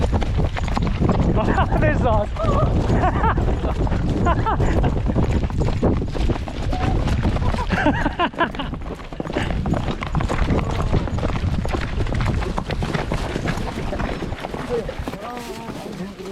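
A group of horses canters on Caye Caulker, their hooves drumming in a fast, continuous clip-clop under wind noise while a person talks throughout.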